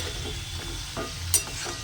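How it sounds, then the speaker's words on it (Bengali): Mung dal pulipithe dumplings fry in oil, giving a short, soft continuous sizzle with a quick utensil clink near the end and no talking. "যতক্ষণ না এর একটু কালচে ভাব আসছে ততক্ষণ পর্যন্ত পিঠেটা আমি ভাজতে থাকবো।"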